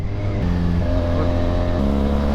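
A motorcycle on a night ride along the road from Baliuag to Nueva Ecija, its engine droning loudly and steadily close by, the pitch shifting in steps as it changes speed, with road and wind noise.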